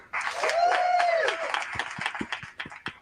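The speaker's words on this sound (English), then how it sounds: "Please make a big round of applause." Applause and clapping from an audience, starting loud and then breaking into scattered individual claps, with a voice briefly audible over it.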